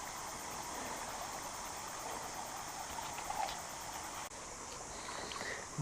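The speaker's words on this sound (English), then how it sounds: "Here's the Mangamuka river." The Mangamuka river flows over shallow shoals, a steady, soft rushing and trickling of water that continues unbroken and fairly quiet, with a brief faint splash partway through.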